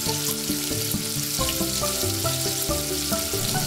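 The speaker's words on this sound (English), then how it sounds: "cook the bacon with about a half a teaspoon. Let's make it a tablespoon of oil" Bacon fries in a tablespoon of oil for Jamaican shrimp and rice, a continuous sizzle sitting beneath music-like tonal layers throughout.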